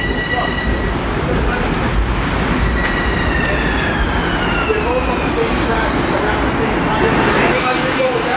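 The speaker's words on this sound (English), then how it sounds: "here comes the Huntington train" A Long Island Rail Road commuter train bound for Huntington pulls into a station on the Main Line with a continuous loud rumble, squealing brakes and a whistle-like tone, while people talk nearby.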